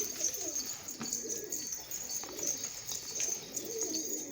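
Pigeons at a keeper's loft give soft, repeated rolling coos at moderate distance, joined by a faint high chirp and light background hiss.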